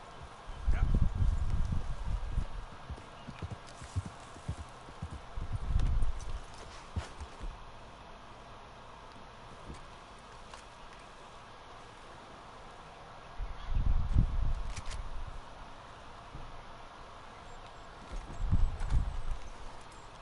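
Horse hooves clip-clop in the Red Dead Redemption 2 video game, coming in separate bursts of rhythmic clopping with quieter stretches of rustling ambience between them.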